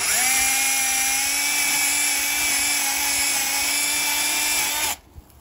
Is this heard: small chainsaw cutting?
yes